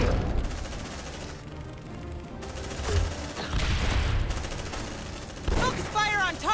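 Video game gunfire, heavy and continuous, with bursts and booms layered into a loud battle din, while game voices and effects sound over it.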